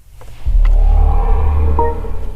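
A BMW XM Competition start-up sound composed by Hans Zimmer: a deep, loud rumbling swell rising suddenly and sustaining with tonal layers above, heard alone.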